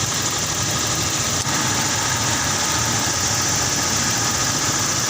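Toyota Kijang Kapsul engine idling with its AC compressor running rough, a steady close mechanical drone with a rough, slightly knocking texture and no talk.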